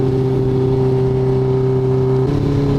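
A small cruiser motorcycle engine drones with a steady, loud mid-pitched tone up close, then shifts slightly in pitch near the end as if changing revs.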